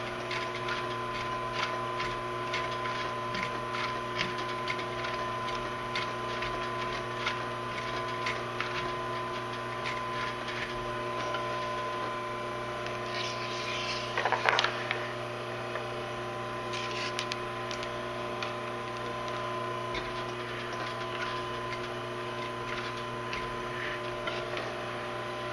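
A sewing machine stitching a leather tote bag, running quietly and steadily over a constant mechanical hum with faint ticking, plus a brief louder clatter midway.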